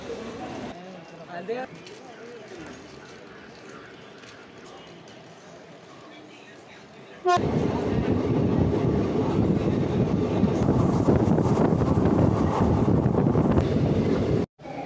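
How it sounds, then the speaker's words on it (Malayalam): A passenger train on the Shoranur–Nilambur line rolls through Thuvvur railway station: quiet at first, then a loud, continuous rumble of wheels and carriages for the second half. "ട്രെയിൻ തൂവൂർ എന്ന റെയിൽവേ സ്റ്റേഷനിലെത്തിയിരിക്കുകയാണ്"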